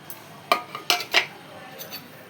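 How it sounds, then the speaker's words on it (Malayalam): Grated coconut and jaggery syrup going into a pot of cooked mung beans, heard as a few sharp metallic spoon-on-pan clinks in quick succession, fairly close, with no talking. "ഇനി ഇതിലേക്ക് ശർക്കരപ്പാനിയും തേങ്ങയൊക്കെ ചേർക്കാം."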